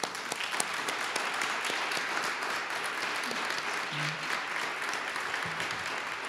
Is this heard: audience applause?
yes